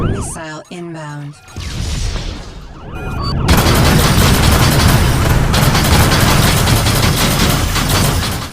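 Incoming missile alert in the space combat game Rebel Galaxy Outlaw: a synthetic voice and warning tones give way to a loud, sustained rushing roar of the attack.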